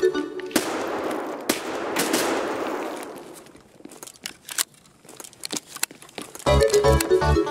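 Gunfire in the shooter Escape from Tarkov: a few loud close shots with echoing tails, then a scatter of sharper, fainter reports and a brief harsh burst near the end.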